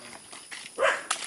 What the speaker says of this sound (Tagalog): Grabe mga aso.